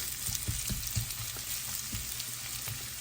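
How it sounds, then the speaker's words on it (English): Onions and peppers fry in a pan for shakshouka, a steady close sizzle with occasional soft stirring scrapes and pops, quiet and continuous with no talk. "I'm going to cook those for about 10 minutes or so until they are softened, the onions are translucent"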